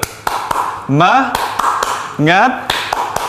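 A class of third-grade children claps in a quick steady rhythm while voices chant together in short rising calls between the claps.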